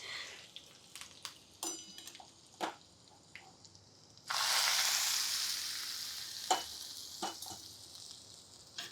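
Curry leaves hit hot tempering oil for a dal offering, bursting into a loud, close sizzle midway that keeps crackling steadily, after quieter clinks and stirring with no talk.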